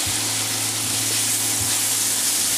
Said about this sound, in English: And that's going to saute also.